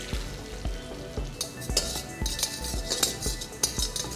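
Chopped onions fry in butter with a bright, continuous sizzle, while a metal spoon clinks and scrapes against the pan in a quick, irregular rhythm close by.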